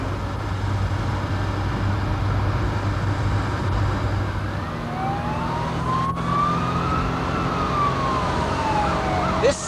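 A police car siren wails on an emergency run in 1990s British traffic footage, rising and falling over a steady engine hum, growing clearer and louder toward the end.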